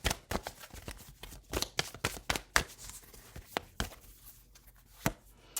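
Crisp, irregular flicks and snaps of a tarot-style card deck being shuffled by hand, close and fairly quiet, with uneven bursts and short pauses between them.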